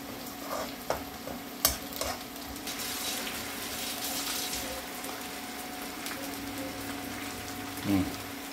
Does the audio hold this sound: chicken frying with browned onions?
yes